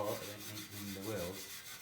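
Brass-coated spring steel wire brush scrubbing the welds of a bicycle frame, a faint, steady rubbing scratch in short back-and-forth strokes with no talking.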